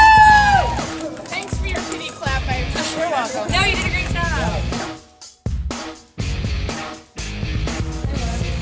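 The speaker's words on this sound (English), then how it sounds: "everybody give Lindsey a round of applause for her first night as a Derby girl" A roller derby crowd cheers, whoops and applauds for a new derby girl, loud and lively with shouting voices over bursts of clapping, broken by a few brief drops in level.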